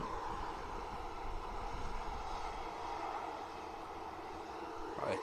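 An Aer Lingus ATR turboprop passes at an airport, a steady broadband engine roar mixed with wind noise on the microphone. It stays at an even level throughout and sounds moderately distant, with no speech.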